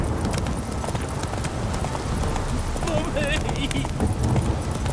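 Horse hooves clip-clop at a gallop in The Witcher 3, a steady drumming gait mixed with game music and ambient effects.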